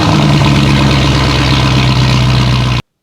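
A 4-litre V8 Land Rover Discovery with a loud straight-through exhaust idles close by, a deep, steady, throbbing rumble that cuts off abruptly at the end.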